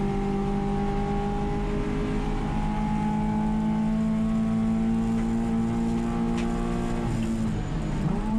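A race car engine in a racing video game on the Pacific Grand Prix circuit holds a steady, loud drone that rises slightly in pitch, then wavers near the end, with no talking.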